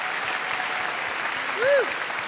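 Steady audience applause at a Town Hall stage show fills the space, a dense, even wash of clapping from a crowd that holds throughout, with a brief whoop rising near the end.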